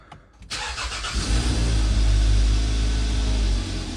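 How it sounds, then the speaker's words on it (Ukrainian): A Hyundai Sonata 2.4 GDI engine cranks briefly and catches, then settles into a loud, steady idle rumble around 1100 rpm close by. "Зараз будемо пробувати і перший раз заводити."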